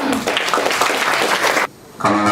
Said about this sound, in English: Let's give a warm round of applause in welcoming him